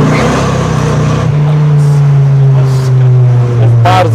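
A Dodge Viper engine roars loudly on the streets of Warsaw, its steady drone climbing in pitch as the car accelerates, with a short brighter burst at the end.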